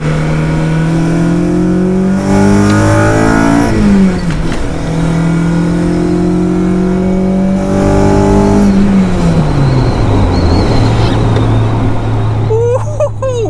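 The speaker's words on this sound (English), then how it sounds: "That VTEC transition is so good." Honda engine in an Integra or Civic Type R revving hard through its VTEC transition, rising pitch in repeated pulls with sharp drops between shifts, loud and close, no voices.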